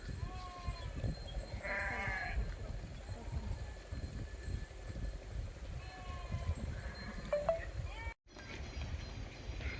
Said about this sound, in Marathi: हे बघा कशा घराच्या वाट्याने मेंढ्या अशा तडा तडा तडा तडा चाललेल्या आहेत